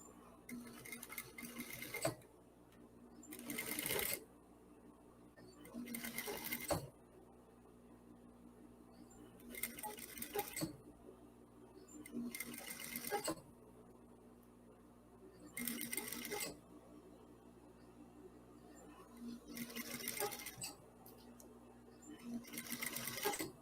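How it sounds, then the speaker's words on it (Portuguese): A sewing machine runs a fine, narrow topstitch along the very edge of the seam allowance on the reverse side of the fabric. It comes in about seven short, even bursts of rapid stitching separated by quiet pauses, close and clear, with no talking. "É um pequeno pesponto aqui"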